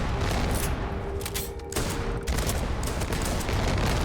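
Dense, loud gunfire in Starfield as outpost buildings are shot, continuous rapid bursts layered over one another without a break.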